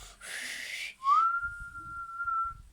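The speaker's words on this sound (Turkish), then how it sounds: "Baba ıslık çalabiliyor musun?" A single sustained whistled tone rises and holds steady for over a second, following a brief burst of noise, with low rumbling in the background.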